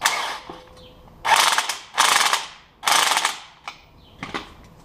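A strut spring compressor on a 2006-2011 Honda Civic is tightened with a ratchet, giving several loud close bursts of rapid clicking separated by short pauses, with a few quieter clicks near the end.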